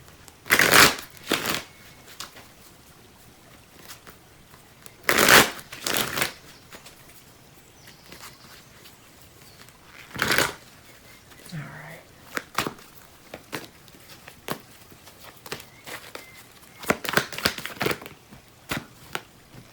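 Tarot cards shuffled in several separate bursts of quick riffling and flapping, close and fairly soft, with quiet pauses between them and no talk over it.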